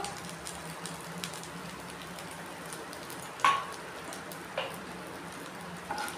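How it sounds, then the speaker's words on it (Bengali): Turmeric powder and spices frying in a pan for a teasel gourd dish, giving a steady soft crackling sizzle with a few brief louder clicks, close by and with no talking. "এখন একটু ভেজে নেব এটাকে।"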